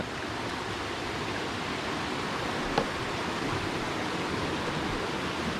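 Steady rushing water of a small waterfall in Tat Ton forest, Thailand, a continuous broadband splash with no pauses, fairly close and even in loudness throughout.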